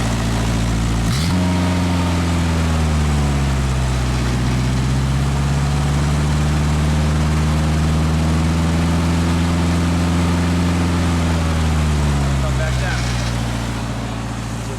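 A Genie lift engine idles loudly up close, then its steady drone climbs in pitch as the idle speed is raised and holds high before easing back down near the end, with no voices over it.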